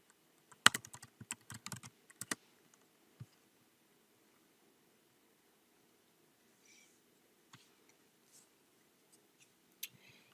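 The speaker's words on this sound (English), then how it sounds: "I could type in any keyword here" A keyword is typed on a computer keyboard: a quick burst of close, crisp keystrokes in the first couple of seconds, then a few isolated taps and faint clicks spread through otherwise quiet air.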